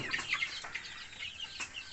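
Thirsty Rhode Island Red chickens cluck and chirp in scattered bursts, moderately close, with a soft background hum and no talking.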